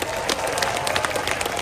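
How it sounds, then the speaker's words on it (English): An audience at a zoo seal presentation claps steadily, a dense, moderately loud wash of applause with crowd noise and no clear speech. "get ready to give him a big round of applause"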